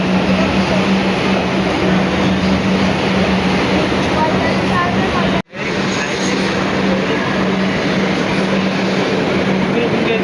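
A metro train pulls into Shyambazar metro station in Kolkata, making a loud continuous rumble and roar that fills the whole platform with only a brief break, and no distinct voices stand out.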